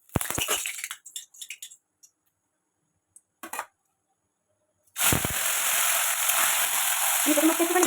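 Small turmeric-coated fish hit hot oil, bursting into a loud, steady close sizzle after scattered pops and crackles from the pan.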